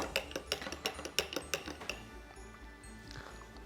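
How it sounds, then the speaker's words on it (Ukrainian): A spoon stirring spiced cortado coffee in a cup, a quick run of about a dozen light, close ringing clinks against the cup that then stops, leaving faint background noise. "До речі, можна ще перемішати, тому що. Трошки сиропу залишилося знизу."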